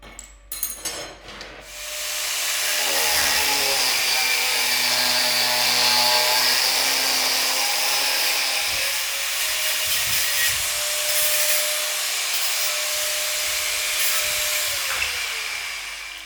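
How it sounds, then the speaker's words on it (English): An angle grinder cuts steel rivet stock while a blacksmith makes wolf jaw tongs. After a few brief knocks, it settles into a loud, continuous, harsh grinding whine that lasts over ten seconds. "chop it off with a grinder"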